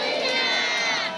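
A church congregation at a healing prayer service shouts together loudly in one sustained, dense burst of massed voices filling the room.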